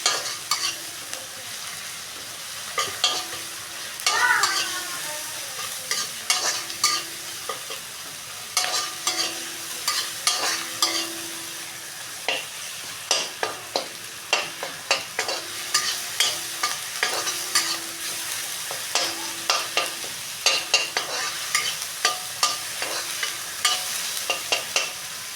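Tomatoes with salt and turmeric fry in oil in a pan as a base for Assamese fish curry, a soft sizzle under frequent rhythmic stirring and scraping of the spoon against the pan, with no voices.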